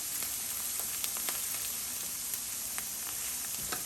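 Chopped green chilies sizzle steadily in a hot pan with softened onions for palak dal, with a few faint scrapes of stirring over a constant close frying hiss.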